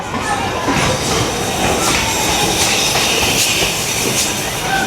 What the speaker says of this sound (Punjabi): ਹਰ 30 ਮਿੰਟ ਬਾਅਦ ਟ੍ਰੇਨ ਆਉਂਦੀ ਇੱਥੇ